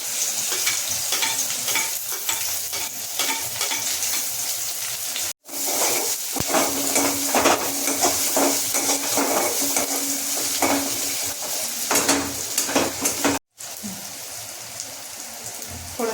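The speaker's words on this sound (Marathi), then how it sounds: "तेलामध्ये कांदा टाकू, मिरची," Onion, chili and garlic sizzle and crackle in hot oil for a dried bombil chutney, a loud continuous frying hiss with stirring scrapes. Two brief cuts break the sound, and no one speaks.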